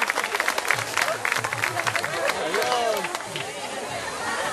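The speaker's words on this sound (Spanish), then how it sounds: "Fuerte el aplauso para el ganador" Audience clapping for a contest winner at the 2013 Easter expo fair in Tuzantla, a steady wash of applause mixed with crowd chatter and voices throughout.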